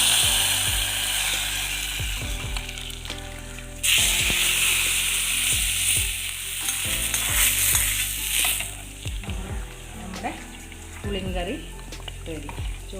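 A hot fried tempering is poured into a Kerala-style tamarind curry (nadan pulinkary), giving a loud, crackling sizzle that keeps fizzing and popping for several seconds, with stirring clatter and little or no talk.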